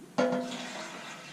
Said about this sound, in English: So I'm going to go wash this off in the sink